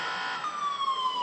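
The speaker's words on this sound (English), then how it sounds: "In case somebody, just a double tap, you have a siren." A phone safety app siren wails with a slowly falling electronic tone, steady and fairly faint, with no talking.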